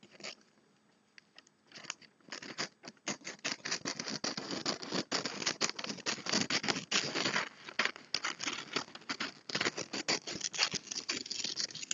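Scissors slice through wrapping paper up close, a rapid run of crisp snips and rustles that grows steadier after a quiet start.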